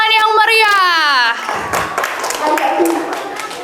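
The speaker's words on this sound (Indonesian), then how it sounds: "Beri tepuk tangan yang meriah." Applause rises from the audience at a children's preaching competition held in a mosque. It follows a brief stretch of voice and then fills the rest of the clip as a dense, steady patter of many hands.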